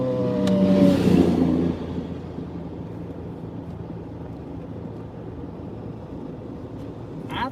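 Steady road and engine rumble from a car cruising along, a louder passing swell near the start and then an even, continuous drone throughout.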